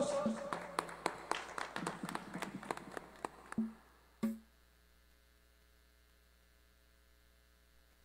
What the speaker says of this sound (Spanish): Recibamos con fuertes aplausos.